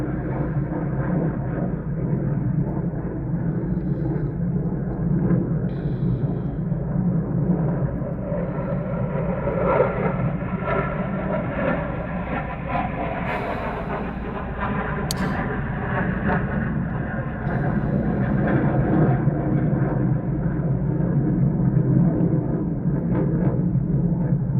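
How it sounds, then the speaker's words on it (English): A plane passes overhead as a low, steady rumbling roar that swells slightly and then holds, continuous throughout with no talking. "Just letting the plane pass."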